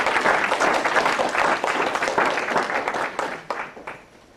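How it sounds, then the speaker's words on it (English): Audience applause at a library talk in honor of the library staff, with dense clapping near at first that thins out and fades to a few last claps. "Clap."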